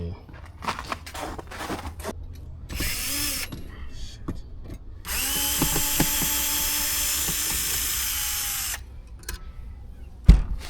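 A power screwdriver drives a screw out in an old Detroit house, giving short bursts of whirring and then one long steady whine that halts abruptly, ending in a sharp clunk.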